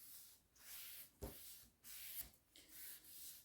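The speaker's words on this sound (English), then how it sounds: "I'm just going to rub this stain on" A cloth rubs wood stain onto wood panels along the grain in slow, soft back-and-forth strokes, a faint close swishing with a couple of light knocks; no talking.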